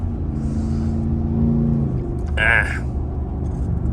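A Ford F150 with a 5.0 V8 drives through morning traffic, its engine giving a steady low rumble and drone from inside the cab, with a brief tonal sweep partway through and no talk over it.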